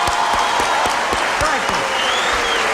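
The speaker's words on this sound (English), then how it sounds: "So let's give Governor Clinton a big round of applause." Loud crowd applause and cheering for Governor Clinton at a 1992 election night rally, a dense roar of clapping with rhythmic thumps and whistles cutting through.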